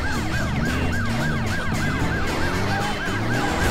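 Ambulance siren wails in fast repeating sweeps while driving in Driver San Francisco, loud and steady over engine and traffic noise throughout.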